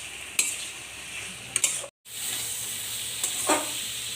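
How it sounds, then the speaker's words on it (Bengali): Spice paste and chili paste being sautéed in a pan for an egg and taro-stolon dish, a soft continuous sizzle punctuated by occasional spatula scrapes, with a brief cut to silence midway. "এইভাবে কষিয়ে নেব।"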